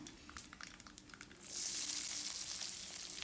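Garlic tossed into oil with onions sizzles up suddenly, quiet scraping and crackle first, then a loud, bright, sustained hiss close by.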